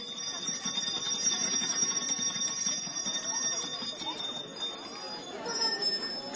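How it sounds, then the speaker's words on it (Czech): Children ring small bells loudly at an outdoor Christmas tree lighting, a dense continuous jingling and tinkling that thins out toward the end, with voices faintly mixed in. "musíme zvonit pořádně nahlas, aby to slyšeli i ty nejvyšší větvičky vánočního stromečku"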